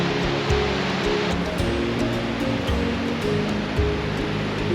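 Firehole Falls on the Firehole River in Yellowstone roars as a steady, dense rush of falling water, heard up close and without pause, with no talking.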